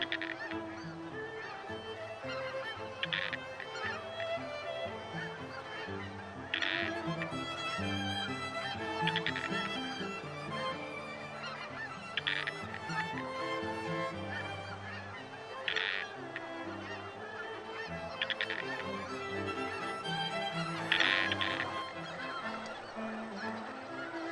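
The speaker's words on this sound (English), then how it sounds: "Snow geese and Ross's geese are pure white with black-tipped wings." Snow geese and Ross's geese honk in a dense, continuous chorus across Sacramento Valley wetlands, a steady wash of overlapping calls with louder bursts rising every few seconds and no voices.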